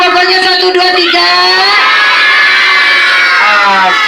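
A group of young children in a classroom shout an answer together, a loud, continuous chorus of high voices sustained for about four seconds.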